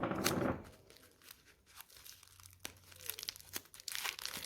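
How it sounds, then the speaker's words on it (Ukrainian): Masking tape crinkles and tears as it is pressed onto a papier-mâché pear, with irregular crackling and sharp ripping bursts close up, with no talking. "Головне в наліплюванні малярного скотчу, щоб він щільно прилягав."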